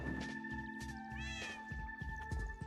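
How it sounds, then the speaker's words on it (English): A cat in the Minecraft video game meows in short rising cries over steady in-game background tones, heard alone without talk. "Meow. Meow."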